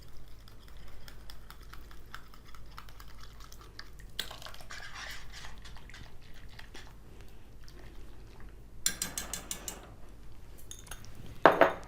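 Homemade cream being mixed into milk in a pot for a no-bake dessert, heard as soft, steady clinks and scrapes of a spoon against the metal pot, with a few brighter clatters near the end and no talking.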